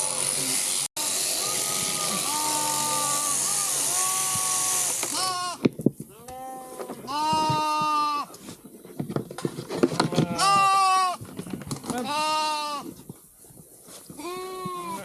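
Lambs and sheep bleat loudly and repeatedly, close by, during sheep shearing for eco-grazing, after a steady electric clipper buzz; voices are faintly heard.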